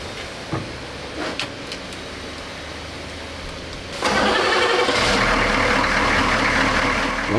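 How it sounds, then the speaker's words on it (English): A US military Humvee engine starts and runs during an oil service, a faint rumble that jumps to a loud, steady broadband roar about halfway through and holds close to the mic. "As the engine runs, it pushes oil all through it."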